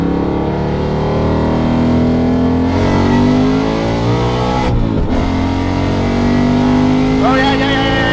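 A 700 whp procharged Ford Mustang engine runs loud and close, holding a steady throaty drone with a few swells in revs, while voices are heard over it.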